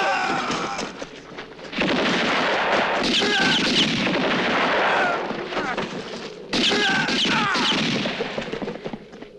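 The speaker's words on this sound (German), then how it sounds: "Was war das? Was bedeutet die Knallerei?" Loud, sustained gunfire from a spaghetti western, a dense barrage of shots and booms in two long bursts with a brief lull between, filling the scene with little else audible.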